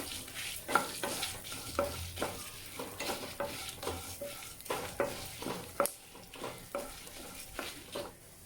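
Coriander seeds dry roasting in a pan for idli karam podi, a steady close scrape of stirring with repeated spoon strokes over a faint crackle, no voices.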